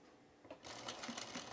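A sewing machine starts up close by and stitches around the edge of a camp shirt collar, a quick brisk run of rapid needle clatter lasting about a second.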